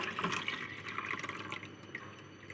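Liquid poured into a cooking pot for nyembwe, a Gabonese dish, giving a close, soft splashing and trickling with small drips, fairly quiet and continuous.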